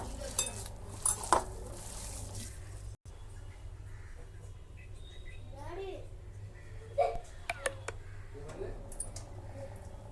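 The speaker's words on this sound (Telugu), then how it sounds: "అన్నీ కలిసేలాగా బాగా కలుపుకోండి." Spinach pakoda batter is stirred and mixed in a bowl, giving intermittent clinks, taps and soft scraping at close range, with a faint voice in the background.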